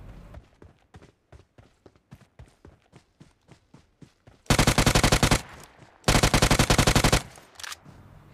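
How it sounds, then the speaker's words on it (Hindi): Bursts of automatic gunfire in a BGMI (Battlegrounds Mobile India) match, with sparse single shots or footsteps leading into two long, loud sustained volleys of rapid fire. "तभी मुझको वेयर हाउस की तरफ से फायरिंग आती है"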